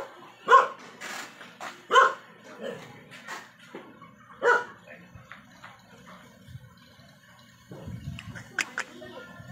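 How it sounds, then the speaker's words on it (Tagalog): A dog barks three times in short, loud yaps spaced a couple of seconds apart, followed by softer yips and whimpers against a quiet background. "May aso eh."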